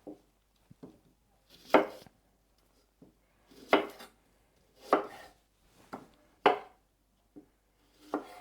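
A knife cuts the ends off peeled onions and shallots on a board, about eight separate crisp chops spaced unevenly with quiet gaps between them, close and clear with no voices.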